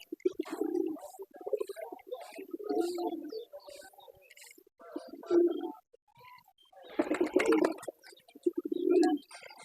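Pigeons coo in bursts inside a pigeon house, with a few soft, low calls spread out and some clattering nearby.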